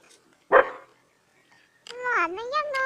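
A single sharp dog bark sounds once, then after a pause a person talks in a rising and falling voice.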